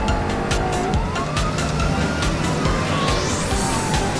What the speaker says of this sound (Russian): О, скорая!